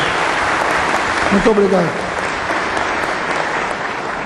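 Steady, dense applause fills a solemn session of Brazil's Chamber of Deputies honoring Engineer's Day. A voice briefly speaks over the clapping midway.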